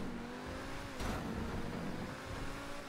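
A racing car engine in a Grand Theft Auto V race drones steadily at moderate volume, with a short burst of noise partway through and no talking.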